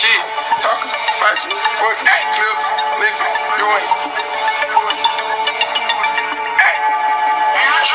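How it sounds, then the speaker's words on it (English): An iPhone plays a custom ringtone made from a song, loud rhythmic music with a voice over it, continuing steadily. "You have your ringtone."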